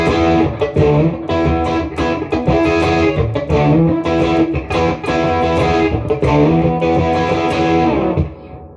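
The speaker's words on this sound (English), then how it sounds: "I'm pulling back the gain just to the edge of breakup" An electric guitar played through an amp with the gain set just at the edge of breakup, with the master volume pushed. A continuous riff of chords and notes rings out with mild grit, loud and close, ending in a fade.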